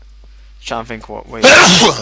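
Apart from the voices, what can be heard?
sneeze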